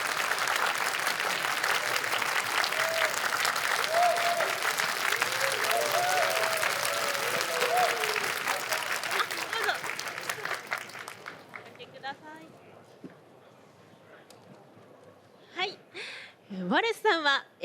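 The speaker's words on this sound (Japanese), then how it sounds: "皆さん拍手でお出迎えください" Audience at a board game convention stage event claps to welcome game designer Martin Wallace, with steady dense applause for about ten seconds that thins out and fades, followed by a host speaking over light room noise.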